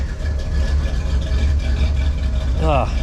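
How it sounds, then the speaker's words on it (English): A car engine with an exhaust leak idles with a steady low rumble and a rough, puffing exhaust note, continuous throughout and fairly loud. "if you can hear that, it's actually exhausting right around here"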